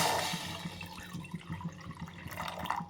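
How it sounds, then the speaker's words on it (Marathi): Water pours steadily into a tub, a continuous splashing rush with gurgling that holds for several seconds, close by. "टप घेतला आणि टपमध्ये पाणी टाकते"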